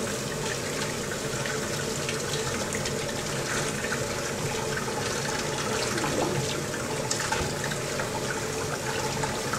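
Tap water runs steadily as white shrimp are rinsed before being butterflied along the back, a continuous broadband gush that stays fairly loud and even throughout, with no talk over it.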